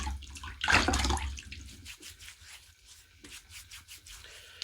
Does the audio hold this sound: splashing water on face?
yes